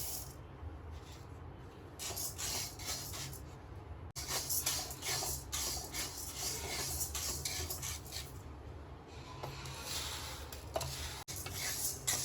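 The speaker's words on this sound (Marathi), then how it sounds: "उडदाची डाळ भाजून घेऊया" Urad dal being dry roasted in a pan, with a steady dry scraping and rustling of lentils stirred against the metal and occasional utensil clinks.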